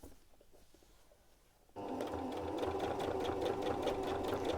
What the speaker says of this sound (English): my machine's not very good over seams and things, so I'm just going to give it a gentle help over this seam